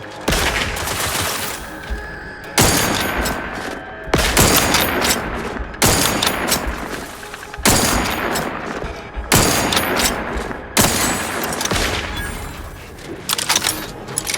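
Gunfire from The Outer Worlds 2 video game: repeated loud bursts of automatic fire, roughly every one and a half to two seconds, each a dense crackling volley that dominates the scene with no talk.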